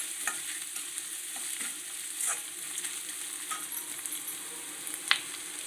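Ginger and spices frying in oil in a pan while being stirred, with a steady close sizzle and a few scraping clicks of the spoon, and no talking.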